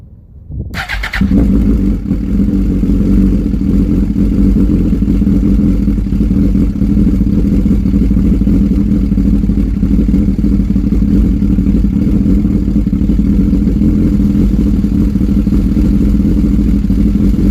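A nitrous-fed custom 2006 Suzuki GSX-R 1000 motorcycle fires up after a brief pause, then holds a loud, steady, close idle with a deep throbbing rumble and light mechanical clatter, no talk.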